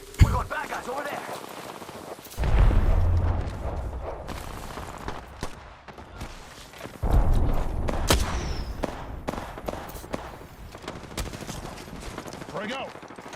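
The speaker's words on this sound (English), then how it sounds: "Firing. Firing." Video-game gunfire crackling in bursts at close range, sharp volleys breaking out around the three-second and seven-second marks and continuing in scattered shots, with a voice calling out over the action.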